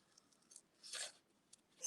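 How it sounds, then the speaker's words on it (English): Scissors snip paper at a craft table during card making, giving a few faint, short cuts with one louder snip near the middle and another at the end, in a quiet room. "just snip off excess when it starts getting in the way"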